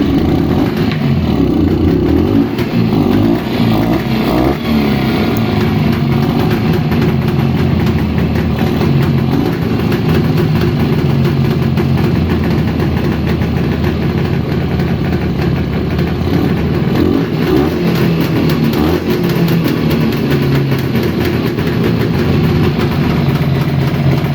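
Jawa 634 motorcycle engine with a Chinese CDI ignition and a flooding carburetor, running steadily at idle, loud and close, a continuous low rumble with no breaks throughout.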